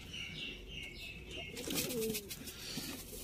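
A dumchir pigeon coos softly and repeatedly at close range, with a few chirps from other birds around it and no one talking.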